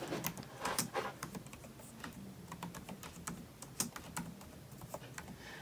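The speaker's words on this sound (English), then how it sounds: "just type in small picture frame" Rapid, uneven clicks of typing on a computer keyboard, close and fairly quiet, with short bursts of keystrokes and no talking.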